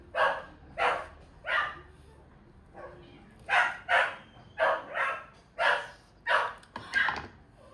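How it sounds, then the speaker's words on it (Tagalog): A dog barks repeatedly nearby, about a dozen sharp barks in uneven bursts with short pauses between them. "Ingay naman ang aso."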